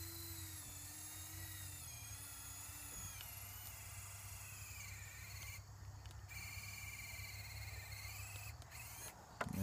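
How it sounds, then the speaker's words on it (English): An RC4WD 1/8-scale Warn winch on a 2S battery reels in its rope to lift a broken branch, a thin, high electric-motor whine that rises and falls in pitch. "we got my winch rope hooked up to that broken branch right there"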